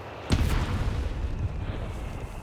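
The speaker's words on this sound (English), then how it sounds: "Mortar setting off the mine." In a Company of Heroes 3 match, a mortar shell sets off a mine, producing a single sudden deep boom that rolls into a rumbling, noisy tail for a couple of seconds.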